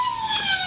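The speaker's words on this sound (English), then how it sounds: "There's a police car not far off." A police car siren from an audio drama wails in a short, steady tone that slides slowly downward, close and clear with nothing else over it.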